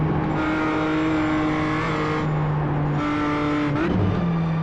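Race car engine held at full throttle around the Nürburgring in a racing game, a loud steady high-pitched drone that briefly dips and climbs again through a quick gear change near the end.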